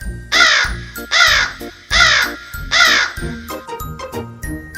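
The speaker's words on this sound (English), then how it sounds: "What sound does a crow make?" A crow caws four times in a steady, evenly spaced rhythm, each call loud, harsh and close, followed by a few softer, fainter sounds with no talking.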